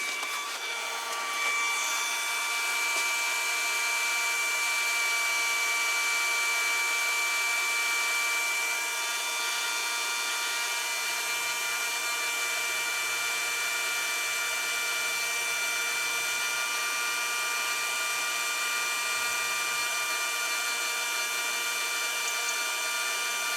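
A heat gun's fan runs in a steady, loud, unbroken whoosh with a faint whine layered over the airflow, holding level for the whole stretch with no talking.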